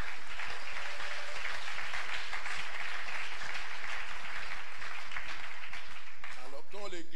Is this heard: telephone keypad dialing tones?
no